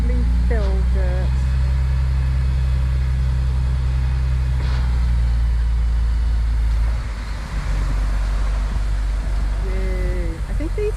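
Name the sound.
dump truck delivering a load of fill dirt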